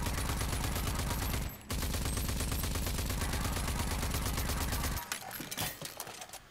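Rapid automatic gunfire in RAGE 2, a video game, rattles in an unbroken stream of evenly spaced shots, pausing briefly once, then tapering into a few scattered, quieter bursts near the end.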